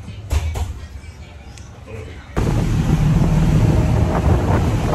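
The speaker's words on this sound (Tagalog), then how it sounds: "medyo malakas ng alon" Strong sea waves wash against a boat on the water. Quieter wind and knocking come first, then a loud, continuous roar of surf and wind buffeting the microphone takes over.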